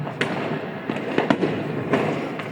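New Year 2025 fireworks burst repeatedly at a distance, a dense crackling rumble punctuated by several sharper pops and bangs at irregular intervals.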